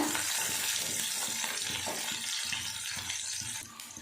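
Chopped onion sautés in a pan for a guava leaf chutney. A dense, continuous hiss of frying carries on throughout with no talking.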